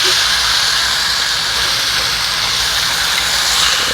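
Chicken breasts just flipped in a hot pan, searing to golden, give off a steady, loud broadband sizzle and hiss that holds evenly throughout with no talking over it.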